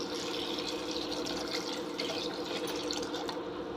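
Water poured over green chillies in a vessel, a steady continuous splashing pour that runs loud and close for the whole stretch, alone with no talk.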